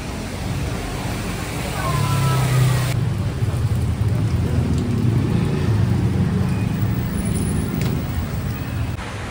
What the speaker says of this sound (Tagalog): We are now walking Despite of the rain.